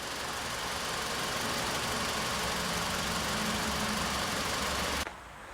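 The engine of a 2000 Chrysler 300M after cylinder head replacement holds a loud, steady high idle near 3,000 RPM, a constant close roar that drops off abruptly at the end.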